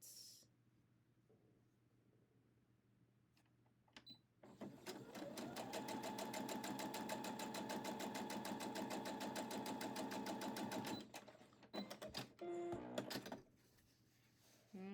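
A sewing machine stitches a scant quarter-inch seam on a scrappy quilt block, running in one long steady whirring burst close by, with quiet handling clicks before and after.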